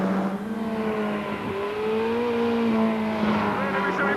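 A Van Diemen Formula Ford race car accelerates hard on track, its engine note climbing steadily through the gear, loud and close from onboard, with a brief dip around a shift midway.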